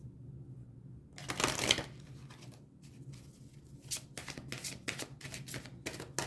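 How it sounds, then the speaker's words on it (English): A deck of oracle cards is shuffled by hand, an initial riffling burst followed by a series of quick, crisp card flicks and slides, quiet and close. "Okay, I'm going to shuffle those again."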